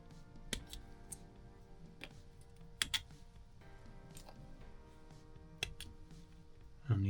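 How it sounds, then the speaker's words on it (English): Plastic parts for a Tamiya Volvo FH16 750 tow truck model kit are snipped off the sprue, giving sharp isolated clicks at uneven intervals, close and fairly quiet against a low steady hum. "now we have to cut these spotlights off"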